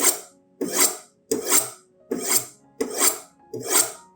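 Kitchen knife being sharpened, six evenly spaced scraping strokes about two-thirds of a second apart, each a loud close rasp with a bright metallic edge, separated by brief silences.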